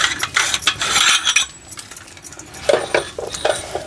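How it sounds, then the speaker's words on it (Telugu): Metal murukku press being handled in a kitchen while making sweet-shop style crispy papdi, giving a string of light metallic clicks, rattles and scrapes that come in quick irregular bursts at close range with no talking. "మనం మురుకుల గిద్ద తీసుకొని చూడండి"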